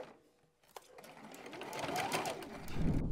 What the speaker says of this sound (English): I'm going to do a little back stitch, and then I'm going to go all the way around